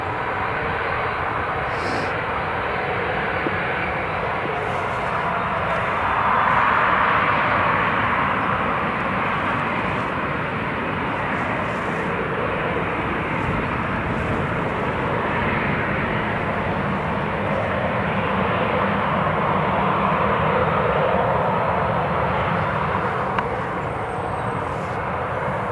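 A fixed-wing aircraft, an Italian Air Force C-27J, lands at Newcastle International Airport; its engine roar holds steady and loud throughout, swelling slightly partway, heard alone outdoors.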